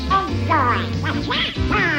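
Donald Duck, the Disney cartoon character, quacks in his raspy, garbled voice through a loud burst of rapid squawking syllables, set against a bright music bed in a Disney Channel promo.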